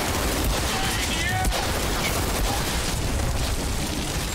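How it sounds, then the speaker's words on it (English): Shotgun blasts ring out amid dense gunfire during combat in the video game Outriders, with several sharp reports over a constant loud battle din and a voice talking beneath. "I got a shotgun."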